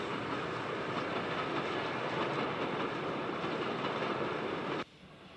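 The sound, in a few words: BR Standard steam locomotives hauling excursion train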